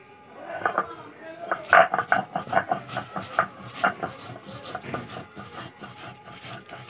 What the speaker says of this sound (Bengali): আমি শিলে বাটনাটা করে নেব